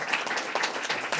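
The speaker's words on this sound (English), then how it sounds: "So why don't we give a round of applause to everybody who did that." A brief round of applause from the audience at a general election debate, honouring the candidates: a dense patter of many hands clapping at moderate distance.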